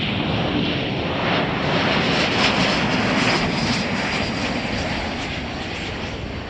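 A passing Airbus A321 jet airliner at Chicago O'Hare airport roars loud and broad, a steady rushing engine noise that fades slightly toward the end.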